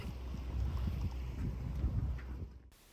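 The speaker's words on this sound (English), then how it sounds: "as usual there's no wind, so we have to motor" A sailboat motors along the Sardinian coast under engine in calm air, a steady low drone with water wash and light breeze noise, fairly loud and continuous, no voices.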